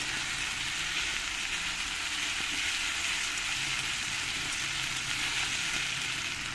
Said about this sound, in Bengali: এই টমেটোটাই আমি এর মধ্যে দিয়ে দেবো দিয়ে ভালো করে নাড়িয়ে চাড়িয়ে আমি একটু কষিয়ে নেবো